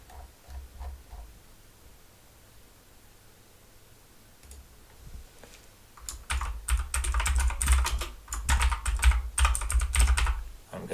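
A page title typed on a computer keyboard, starting with a few faint scattered clicks and then a dense, close burst of rapid keystrokes that runs for several seconds without talk.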